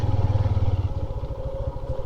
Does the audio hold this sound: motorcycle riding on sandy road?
yes